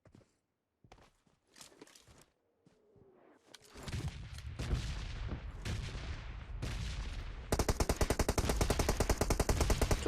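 Rapid automatic gunfire from PUBG Mobile on the Erangel map, sparse shots and footsteps at first building into loud, dense bursts and a sustained fast rattling volley near the end.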